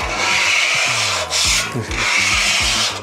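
A metal scraper rasps across a hot plancha griddle wetted with water, giving a loud, continuous grinding scrape in long back-and-forth strokes with brief pauses between passes.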